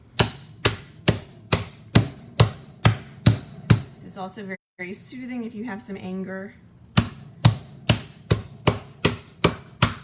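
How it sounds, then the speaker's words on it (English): Ice cubes in a bag are hammered repeatedly with a meat tenderizer, a steady series of sharp, heavy thuds at roughly half-second intervals, pausing briefly while a person speaks before the pounding resumes. "our ice is in here, and we're going to hammer it a lot."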